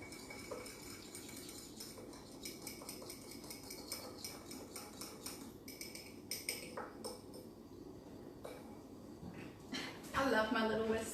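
A small whisk clinks and taps against a bowl while mixing meatball ingredients, quick light metallic ticks running steadily under a person talking, with a louder scraping flurry near the end.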